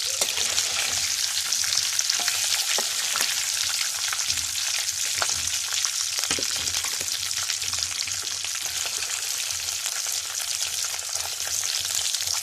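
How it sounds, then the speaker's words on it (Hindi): Pieces of fish frying in hot oil in a pan, giving a steady, dense, loud sizzle that runs unbroken throughout, close up and with no voices. "बाकी भी इसी तरह हमने फ्राई करनी है"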